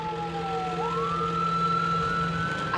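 An ambulance siren wails continuously on the race to the ER, its tone sliding down then back up over a steady engine rumble, loud and close with no talk.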